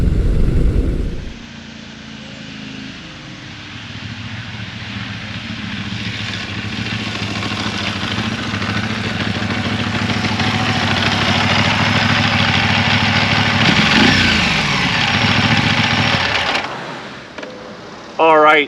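A Motus MSTR motorcycle's 1650cc V-4 engine runs close and loud, holding a steady, throaty drone that swells slightly midway before cutting off near the end.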